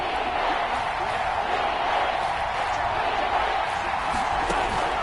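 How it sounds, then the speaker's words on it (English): Stadium crowd roaring in an American football video game ahead of a big third down, a steady, mid-level wall of cheering noise with no distinct breaks. "The crowd getting into it as we come up on a big 3rd down."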